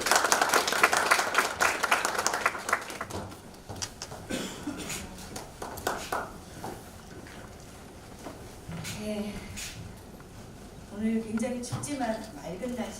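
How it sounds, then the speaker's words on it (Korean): Audience applause at an air-quality policy debate greeting the Korean environment minister, loud clapping at first that quickly thins out, followed by someone speaking. "뜨거운 박수로 맞이해 주시기 바랍니다"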